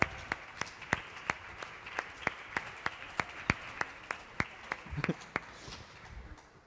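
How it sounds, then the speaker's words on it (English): Rhythmic unison clapping from the audience at an afternoon jazz concert, sharp evenly spaced claps in a steady beat over a soft wash of background clapping, ending in a brief scattered flurry. "Let's give you a round of applause."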